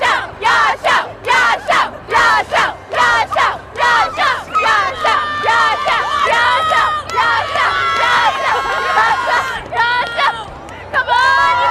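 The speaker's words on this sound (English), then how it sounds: "people were screaming and chanting" A large crowd at the Katsucon 2019 anime convention screams and chants in rhythmic bursts, then swells into sustained cheering and shouting, loud and close throughout.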